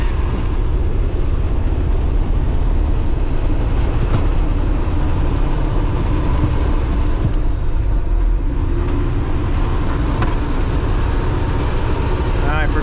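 Logging truck and trailer climbing a hill as the driver downshifts progressively from fifth down to third gear, a loud, steady engine roar with rumbling drivetrain noise and occasional hissing throughout.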